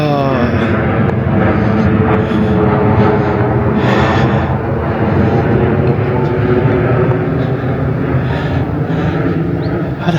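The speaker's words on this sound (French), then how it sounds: "Et encore un avion." An airplane flies overhead near Elche, a loud, steady engine roar filling the whole stretch without fading, with faint breathing sounds close by.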